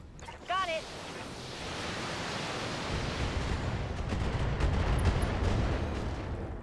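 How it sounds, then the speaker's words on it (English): LRM missiles launched at a Wolverine mech in BattleTech: a short chirping beep, then a long rushing roar of missile fire and explosions swelling over a noisy rumble, with faint impacts near the end. "We're going to fire a better LRM at the Wolverine."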